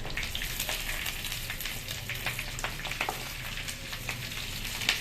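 Green chilies and onions fry in a pan for vegetable biryani, giving a steady crackling sizzle with scattered sharp pops, moderately quiet and without any talk.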